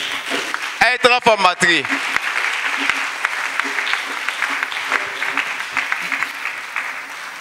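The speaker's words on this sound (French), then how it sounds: "Acclamez pour Jésus." A church congregation at a healing and salvation weekend in Séguéla breaks into sustained, dense applause that carries on steadily throughout, following a brief burst of a voice at the start.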